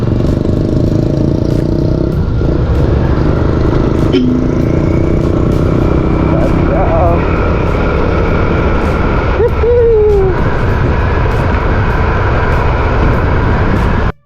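A fuel-efficient motorcycle engine runs steadily while riding, a loud continuous drone mixed with road and wind noise that stays constant throughout.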